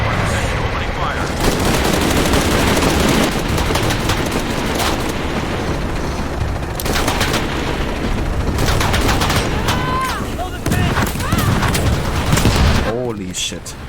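Gunfire in Shadow of the Tomb Raider, heavy sustained automatic bursts and volleys with booming impacts, loud and continuous, with voices speaking intermittently beneath the shooting.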